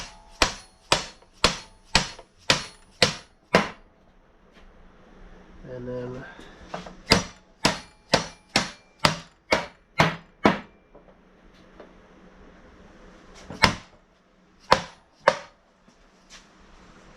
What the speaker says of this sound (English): Mine takes a little bit of love with a hammer.